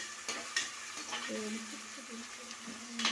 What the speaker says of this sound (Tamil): தக்காளி எடுத்து போட்டுருங்க நல்லா கடாயில் வச்சு